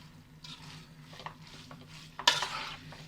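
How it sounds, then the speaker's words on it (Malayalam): Spaghetti noodles for an Indo-Chinese mixed non-veg dish tossed and stirred in a frying pan, giving soft scraping strokes over a faint sizzle, with one louder clank near the end; close but quiet, with no talking. "ഇനി നമുക്ക് ഈ ഇട്ടേക്കുന്നതൊന്ന് നല്ലപോലെ ഒന്ന് യോജിപ്പിച്ചെടുക്കാം"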